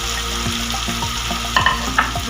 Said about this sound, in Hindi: इन तमाम मसालों को हम इसमें अच्छे से मिक्स कर लेंगे।